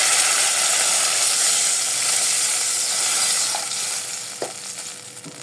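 Water poured into a pot of frying onions for Amazigh couscous with pumpkin and milk, giving a steady loud sizzle and hiss close up with a few small clinks near the end.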